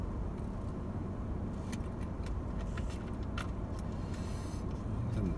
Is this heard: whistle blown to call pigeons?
no